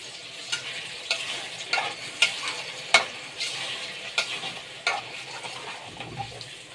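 Meat and onions frying in a pan are stirred, a steady sizzle broken by about a dozen sharp scraping clacks of a utensil against the pan at an uneven rhythm, close and fairly loud with no talking.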